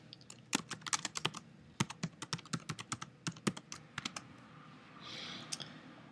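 Keys clack on a computer keyboard as text is replaced in iWeb 2, a quiet, irregular run of close, crisp taps in short bursts that trails into a soft rustle.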